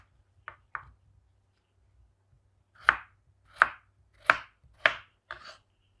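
A knife chops peeled, washed potatoes on a cutting board: two quick close cuts, a pause, then five sharp, evenly spaced strikes, loud and dry against a quiet kitchen.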